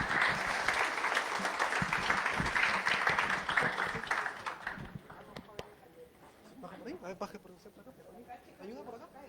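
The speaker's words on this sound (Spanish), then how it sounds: "Un fuerte aplauso para ellas," Audience applause for the panelists at a university project closing seminar, a loud dense clapping for about five seconds that fades out and leaves quieter room noise and scattered voices.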